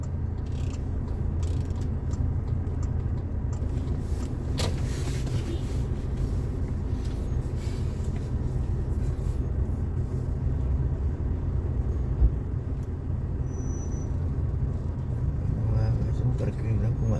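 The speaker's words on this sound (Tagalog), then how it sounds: "At of course, palaging traffic dito." Busy street traffic in central Port of Spain, Trinidad and Tobago: a steady, loud rumble of cars and engines rolling past continuously without a break.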